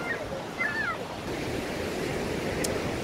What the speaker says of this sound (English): So this is Squeaky Beach.